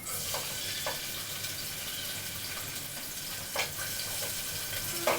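Green chillies fry in hot oil for a barbati, potato and tomato curry, making a steady fine hiss with a few soft splutters and clicks near the end.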